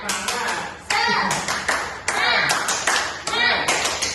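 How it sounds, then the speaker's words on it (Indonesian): Third-grade schoolchildren perform a rhythmic 'tepuk semangat' clapping chant in a classroom, with sharp patterned claps in bursts, mixed with their voices chanting along. "Ada yang tahu tepuk semangat nggak?"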